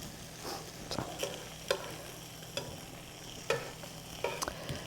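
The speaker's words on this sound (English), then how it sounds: "Hear that sizzle?" Thick-sliced ham and pineapple sizzling in a hot pan, a steady frying hiss broken by several sharp spatters and pops, close up with no talking.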